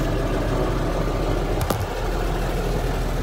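A Massey Ferguson 3680 tractor engine runs steadily nearby, giving a continuous low rumble with an even idle-like drone throughout and one brief click partway through.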